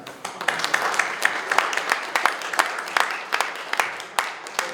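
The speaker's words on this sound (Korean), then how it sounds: "하나님 아버지께 감사와 영광의 박수를 올려드리겠습니다" A church congregation at a thanksgiving service for a new general assembly president's inauguration claps in unison, a dense steady applause with sharp rhythmic clap accents throughout, fairly close and filling the room.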